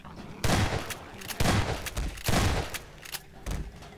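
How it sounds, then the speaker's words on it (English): Three loud, booming shotgun blasts in Half-Life 2 come about a second apart, each trailed by a short rattling decay, followed by fainter clatter. "I should not be wasting 3 shotgun shots on one of those."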